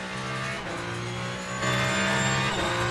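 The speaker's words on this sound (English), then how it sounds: "Le Mans Ultimate Car Sounds could be used for an ASMR for sure" Race car engine in the video game Le Mans Ultimate at Circuit of the Americas, a loud, steady high-revving drone with a clear rise in pitch as it accelerates, heard alone.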